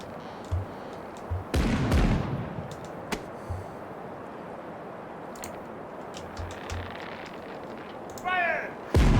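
Ship cannons firing a broadside in the pirate game Caribbean Legend, a few heavy booms spread across the span over a low rumbling ambience, with a sharper burst near the end.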